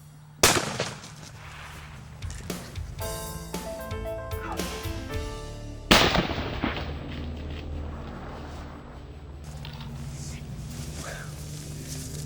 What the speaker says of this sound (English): Good shot, Dad. Great shot.